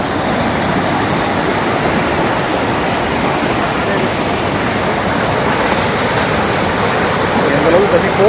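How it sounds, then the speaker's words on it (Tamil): Forceful rushing water from a river or waterfall roars loud and near as a dense, unbroken wash of noise, steady throughout with a slight swell near the end. "எந்தளவுக்கு தண்ணி ஃபோர்ஸ் ஆக்குன்னு பார்த்தாலே உங்களுக்கு தெரியும்"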